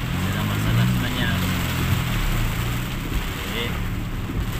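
Heavy rain falls with a steady, broad wash of noise as someone talks over it at close range.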